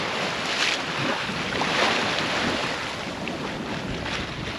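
A sailboat under way at sea on the passage to Nuku Hiva, making close to six knots, with a steady broad rush of water and waves along the hull and gusty wind buffeting the microphone throughout.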